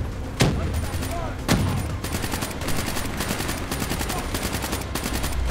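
Rapid automatic gunfire from Call of Duty: Black Ops III combat, with two sharp, heavy shots standing out early before a steady, dense rattle of bursts continues throughout at close range.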